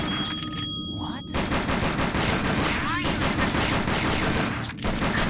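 Rapid gunfire in the arcade horror shooter Silent Hill The Arcade, a dense continuous burst of shots loud and close throughout, with brief electronic tones near the start and no talking.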